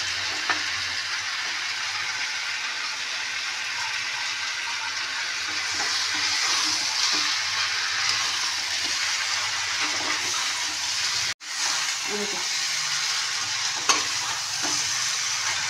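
Shrimp fry in a hot pan with turmeric, giving a steady close hiss and crackle that runs throughout, with a brief sharp drop near the end before the sizzle resumes.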